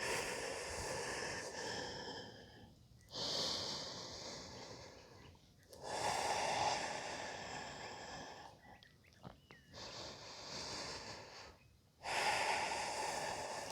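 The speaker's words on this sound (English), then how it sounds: "Inhale, lift the chin, and then exhale, fold over. Breathe in and out." Deep yoga breathing, slow audible inhales and exhales in long alternating breaths, close and soft, repeating through a leg and hip stretch.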